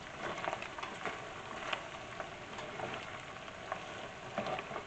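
Sausages and bacon fry over medium-high heat in a pot, a faint, crackling sizzle with occasional soft stirring bumps, fairly distant and low in level.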